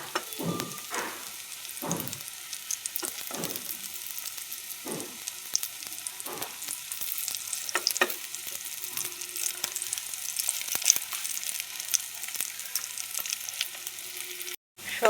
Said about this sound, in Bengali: বড়া লাল লাল করে ভাজা হয়ে গেছে, এবার কড়া থেকে উঠিয়ে নেব।